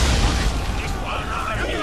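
Ship cannons firing in the Assassin's Creed 3 video game, a dense rumbling boom that rolls on for nearly two seconds, loud and close with heavy low-end.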